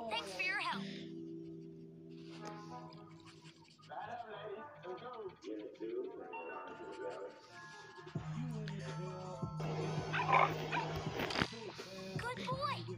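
A puppy in a fairy-tale video game barks, yips and whimpers in short bursts among music and game sounds, fairly close and clear throughout.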